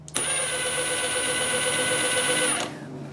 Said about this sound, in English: And then when we pull it on the trigger, you can see exactly how much movement it has when it's not attached to a fastener.